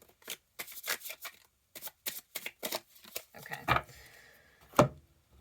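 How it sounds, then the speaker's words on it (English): Tarot cards shuffled by hand in a quick series of crisp riffling bursts, close and fairly quiet, followed by a couple of sharper slaps as the deck is squared. "One more shuffle."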